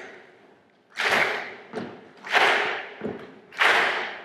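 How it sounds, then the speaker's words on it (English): A festival talk audience claps along in unison, producing loud, sharp group claps in a slow, regular rhythm, roughly one every second and a quarter, with quieter claps in between. "Clap along with me."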